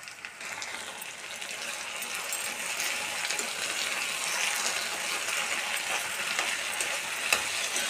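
Potato pieces for a curry fry and sizzle steadily in a pan, with a constant crackling hiss and occasional scraping as they are stirred.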